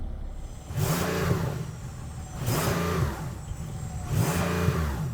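A Porsche sports car engine revs three times in quick succession, each rev rising in pitch then falling back, loud and close, with no talking.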